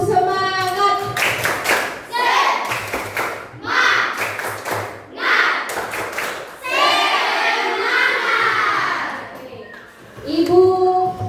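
A classroom of children performs a rhythmic spirit clap in bursts of sharp, patterned hand claps, broken by short pauses and mixed with the kids chanting along loudly and up close.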